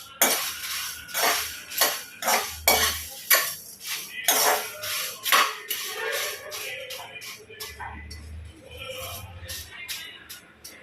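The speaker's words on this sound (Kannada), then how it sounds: "ಈ ಬ್ಯಾಡಿಗೆ ಮೆಣಸಿನ್ಕಾಯನ್ನು ಹಾಕ್ಕೊಳ್ತಾ ಇದ್ದೀನಿ ಅದನ್ನು ಅಷ್ಟೇ ಕ್ಲೀನಾಗಿ ಡ್ರೈ ರೋಸ್ಟ್ ಮಾಡ್ಕೊಳ್ಬೇಕು" Byadgi chillies being dry-roasted in a pan produce rhythmic, close scraping and clattering strokes of a spatula against metal, repeated steadily and quickening toward the end.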